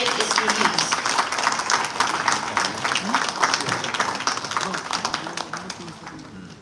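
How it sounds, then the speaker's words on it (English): Applause from a conference audience as a booklet is formally released at a college event, a dense steady wash of many hands clapping that holds throughout and tapers slightly at the end. "Let us all celebrate this moment with a warm round of applause as the booklet is released."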